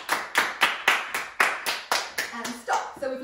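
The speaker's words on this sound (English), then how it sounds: "Clap away and get ready because we're going to swap over to quavers." Hands clap a steady even beat in a music lesson, about ten loud, close claps at regular intervals, with a voice briefly joining near the end.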